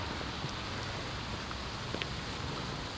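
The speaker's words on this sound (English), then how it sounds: "I just got rained on pretty badly" Rain falls steadily outdoors on a photographer and camera, a soft, continuous hiss with occasional faint drops, low in level and with no talking.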